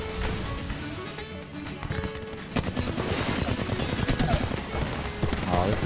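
Apex Legends gunfire crackles in dense, rapid bursts, with overlapping shots from several weapons running steadily through the fight and a voice briefly talking in the background.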